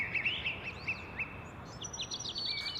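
Birds call and chirp at the Andree Clark Bird Refuge, with several short high calls and trills over steady outdoor background noise, moderately near and no talking.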